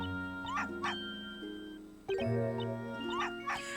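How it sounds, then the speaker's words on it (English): Cartoonish dog barks and yips from the video game Professor Layton vs Phoenix Wright, in a nighttime scene. There are a few short bursts in two pairs, heard over steady game music with no talking. "Oh, we got a dog? Doggy!"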